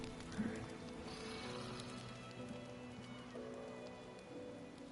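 Steady rain falling around a camp in a video game fantasy setting, a continuous soft patter with faint low rumbles beneath, even and unbroken throughout.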